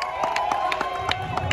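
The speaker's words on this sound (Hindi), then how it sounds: "सारे जितने भी हरियाणा के स्पोर्ट्समैन है उनके लिए तालियां मारिए" An audience at a public address honoring Haryana's sportsmen claps along with crowd noise and cheering, with repeated sharp hand claps spread over a continuous crowd murmur.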